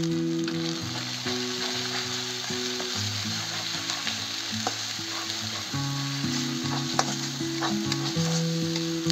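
Spice masala with chilli paste and turmeric fries in a pan, giving a dense, steady sizzle and crackle with occasional stirring scrapes, close and continuous, while faint music plays in the background.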